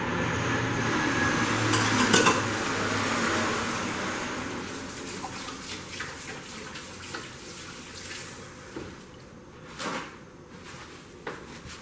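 Tap water runs steadily in a kitchen while someone washes their hands during cheesecake muffin baking, with a few knocks and handling clatters over the continuous broadband flow.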